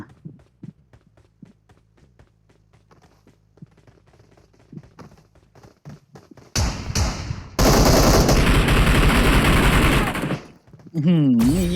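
Faint footsteps and small clicks give way to loud, sustained bursts of rapid gunfire in PUBG, with a short pause before another burst.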